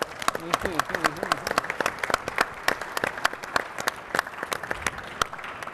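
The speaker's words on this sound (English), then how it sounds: "give Billington a round of applause for the great content and guests we've had so far" An audience claps steadily at a cyber collaboration conference session, scattered hand claps forming moderate applause throughout, with some voices mixed in.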